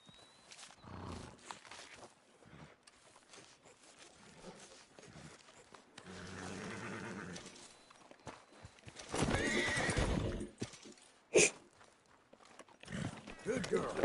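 A horse whinnies and its hooves clip-clop in the Red Dead Redemption 2 video game, with a clear neigh near the middle and sparse hoof sounds elsewhere, mixed with someone speaking at intervals.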